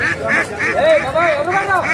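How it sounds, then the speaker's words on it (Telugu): Ducks for sale at a village country-chicken market in Eluru quack in rapid repeated bursts close by, with crowd chatter mixed in underneath. "చూడండి, ఇక్కడ బాతులు కూడా అమ్ముతున్నారండి."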